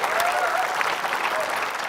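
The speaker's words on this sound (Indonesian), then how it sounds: "beri tepuk tangan yuk" Steady audience applause fills a brief moment on an Indonesian comedy quiz show, moderately loud, even clapping with a faint voice underneath.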